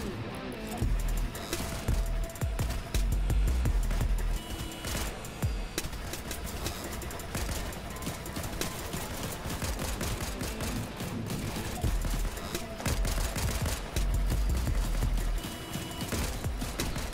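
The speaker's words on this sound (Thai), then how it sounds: "ยังเกมยังไม่เริ่มเลยเสียงปืนสนั่น" Dense Fortnite gunfire fills the whole stretch, a busy barrage of rapid shots and bursts layered over game effects, loud and continuous with a few louder clusters.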